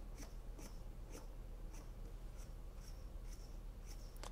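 Plastic rollers on a knife-sharpening guide, made of Ertalite engineering plastic, rasp with gritty friction in faint, regular strokes about every half second over a steady low hum.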